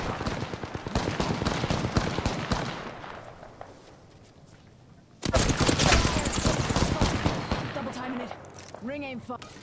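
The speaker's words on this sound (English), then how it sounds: "The second squad is firing at us" Enemy squad gunfire rattles in rapid bursts during a battle royale firefight: dense automatic fire for a few seconds, a brief lull, then a loud renewed barrage with game effects layered on top.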